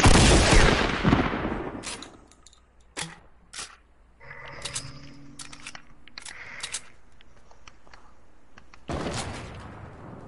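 Sharp sniper rifle shots in a video game firefight, several loud cracks and smaller pops spaced irregularly, with a dense burst of fire at the start and another near the end.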